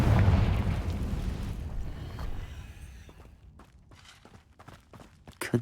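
A Confringo spell explosion in Hogwarts Legacy, a loud deep rumbling blast at the start that fades over a few seconds, followed by scattered light footsteps and small pops.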